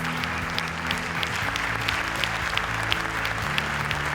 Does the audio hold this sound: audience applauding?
yes